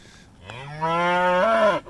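A single long, loud cow moo, rising slightly in pitch near the end, close by with no talking.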